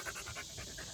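A dog panting aboard a fishing kayak at Purtis Creek, a Texas state park. Quick breathy pants come in a steady rapid rhythm, close by and fairly soft, with no voices.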